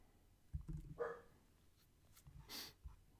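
A dog in a quiet home office gives a couple of soft, muffled barks and a whimpering breathy sound, fairly close but low in level, with no talk over it.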